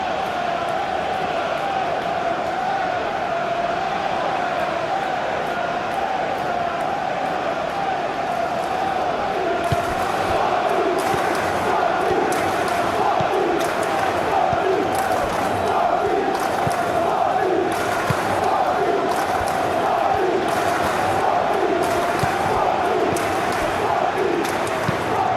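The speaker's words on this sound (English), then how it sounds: "Maybe the crowd will stay a little quieter next time." Stadium crowd ambience in eFootball PES 21 during a Sporting vs Arsenal Champions League match: a steady, dense roar with occasional swells and chants, running unbroken throughout.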